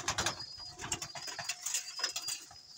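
Pigeons in a loft at feeding time, a close flurry of soft cooing and rustling wing flaps overlapping in a busy, continuous jumble.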